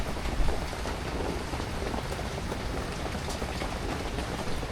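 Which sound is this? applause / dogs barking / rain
rain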